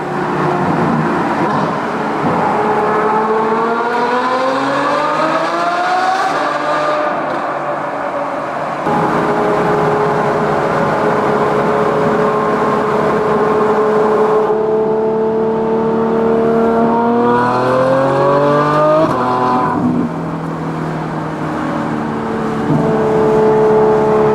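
A Ferrari engine with an F1-style exhaust revs up and down repeatedly, its exhaust howling in rising and falling pitch sweeps, loud and close with no talking.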